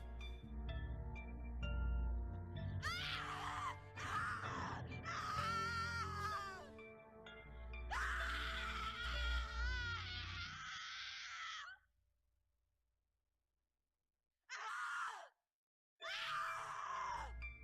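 A character in The Cat Lady video game lets out repeated anguished screams and groans, loud and strained, breaking off into near silence before two more short cries.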